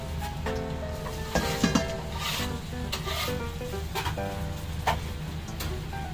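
Onions frying in a pan at a Bangladeshi dinner party, giving a steady dense sizzle with scraping stirs and a few louder clinks, heard alone without talk.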